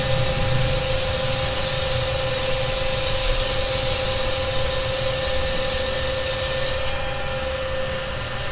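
A continuous loud abrasive hiss of sanding against wood spinning on a lathe, with a steady motor whine underneath, easing slightly near the end.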